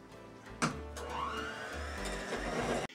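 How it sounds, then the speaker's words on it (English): An electric hand mixer mashes potatoes with heavy whipping cream and melted unsalted butter, a steady close motor whir running nearly three seconds with a sharp clack near the start and an abrupt stop at the end. "I have a mixer."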